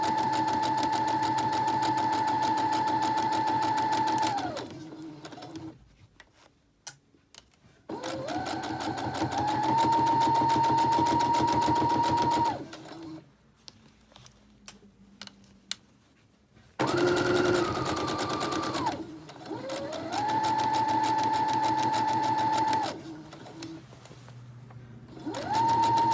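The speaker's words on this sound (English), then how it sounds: "And I'll start stitching there. And we're just stitching along the upper edge of the" A sewing machine stitches along the upper edge of a sleeve in several long whirring bursts with brief pauses between, loud and close, with no talking over it.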